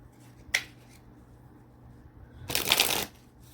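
Tarot cards are shuffled close up, a brief flick followed after a pause by a longer, crisp riffling burst of cards, in a quiet room with no talk.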